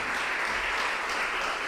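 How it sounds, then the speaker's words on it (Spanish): Congregation applauding steadily during a Spanish-language church service, a dense even wash of clapping that fills the whole moment without pause. "Den un aplauso al Señor."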